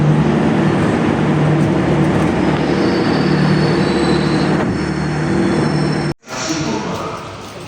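Pangrango new generation train running, heard from inside an economy car: a steady, loud rumble of wheels and carriage noise with a faint high squeal, briefly cut near the end before resuming.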